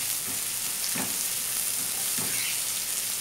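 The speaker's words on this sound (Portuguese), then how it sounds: "Eita, tá pulando cebola." Chopped onion frying in a pan, spitting and spattering with a steady broadband sizzle and a few sharper pops about once a second, close up, with no voices.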